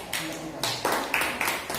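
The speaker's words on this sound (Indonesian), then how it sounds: "beri tepuk tangan untuk pemateri" Scattered hand claps from a small audience rewarding a presenter, a handful of sharp, uneven claps at moderate distance with brief gaps, no voices over them.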